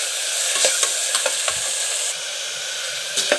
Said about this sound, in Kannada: ಶುಂಠಿ ಬೆಳ್ಳುಳ್ಳಿ ಪೇಸ್ಟು ಎರಡು ಟೇಬಲ್ ಸ್ಪೂನ್ ಹಾಕಿಬಿಟ್ಟು ಚೆನ್ನಾಗಿ ಫ್ರೈ ಮಾಡ್ಕೊಳ್ಳಿ